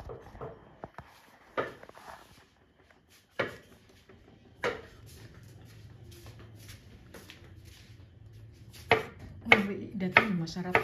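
A knife slices vegetables on a board while a family prepares kimchi, giving scattered close chopping thuds with pauses and a denser flurry of cuts near the end, with no talk.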